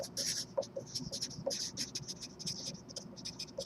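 Pen or marker scratching across a surface while someone writes out a math answer, a run of short close strokes and taps in quick irregular rhythm over faint room noise.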